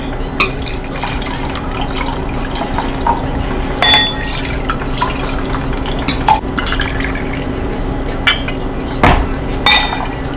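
A strawberry Henny cocktail is poured, liquid trickling and dripping into a glass with scattered clinks and splashes, close and steady with no talk.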